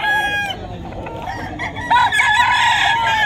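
A rooster crows loudly and close at an early-morning poultry and pet market in Bocaue, Bulacan, with clucking and crowd noise around it; a second crow follows.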